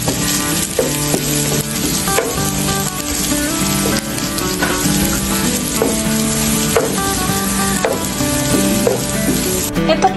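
Garlic and onions sauté in oil in a pan for pork menudo, a steady loud sizzle and crackle with stirring throughout, with no talking.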